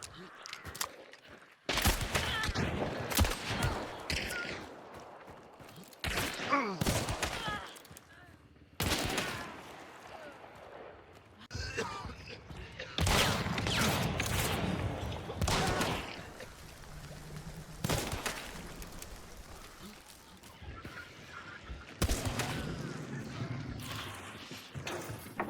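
Bursts of gunfire from the first-person shooter Hunt: Showdown, with loud repeated shots and chaotic in-game noise spread over several stretches separated by brief gaps.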